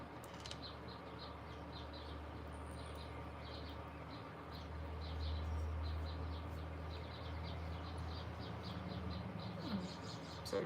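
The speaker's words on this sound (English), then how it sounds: "We have a nest on our porch, and the little baby birds started making noise." Baby birds in a nest on a porch give faint, rapid repeated high chirps in a steady series, heard softly in the background of a quiet room.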